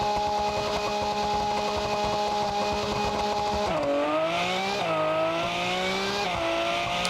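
A VW car in BeamNG track shootout accelerating hard from a standstill, loud steady engine whine climbing in pitch, then dropping sharply with gear shifts around the middle and again near the end, with no talking.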